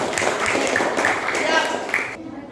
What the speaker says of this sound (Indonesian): tepuk tangan sekali lagi buat kelompok 1